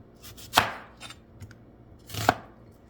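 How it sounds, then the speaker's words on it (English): Knife chopping vegetables on a large cutting board in a home kitchen while preparing fire cider with garlic and onions: two sharp, close chops about two seconds apart, with softer taps between, and no talking. "I got my larger cutting board out instead, since we have a lot of things to chop up."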